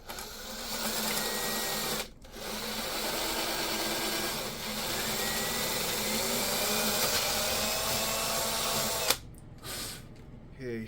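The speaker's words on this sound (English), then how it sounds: "so I just got the hole drilled" A small-bit drill bores a hole through the hull of a Pro Boat Impulse 32 electric RC boat, a loud, close, steady whine that pauses briefly twice before starting again.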